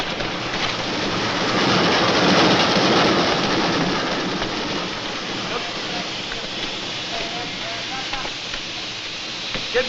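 A steady, rushing rumble of a train, broad and continuous, swelling slightly and then holding level throughout.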